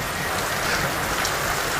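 Steady rain pours down outdoors where two people are having a conversation, a dense, even hiss of drops on surfaces with no break, fairly loud and close throughout.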